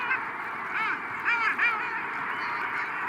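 Long-tailed ducks call in a chorus of nasal, yodelling honks around a Shetland coastline, several overlapping birds at moderate distance with repeated rising calls.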